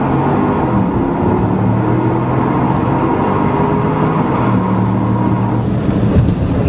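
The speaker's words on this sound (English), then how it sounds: "So I'm rolling along in first gear. I'm going to punch it. I'm going to let it bust off a couple shifts" A Porsche Cayenne Turbo accelerates hard from first gear. The loud engine note climbs steadily, then drops as it shifts and climbs again, heard from inside the vehicle with no talking.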